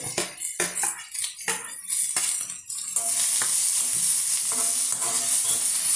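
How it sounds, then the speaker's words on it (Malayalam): Chopped green chili, ginger and onion hit hot coconut oil in a pan: a few seconds of clattering stirs and scrapes give way to a loud, steady sizzle that continues under occasional utensil taps. "അരിഞ്ഞ് വെച്ചിട്ടുള്ള ഇതെല്ലാം ഇട്ട് ഒന്ന് വഴ പച്ചമുളക് ഇഞ്ചി സവാള എല്ലാം നമ്മൾ അതിലിട്ട്"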